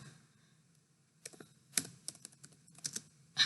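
Keystrokes on a computer keyboard while typing HTML code, a quiet scattered run of clicks and short bursts that grows busier toward the end, heard close with no talking.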